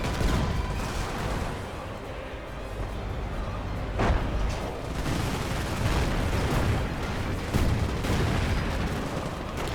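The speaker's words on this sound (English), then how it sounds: "The Lucid Man beautifully hitting him with artillery" Artillery shells and scattered gunfire boom across a Company of Heroes battlefield, a steady din of distant blasts with a few sharper impacts standing out.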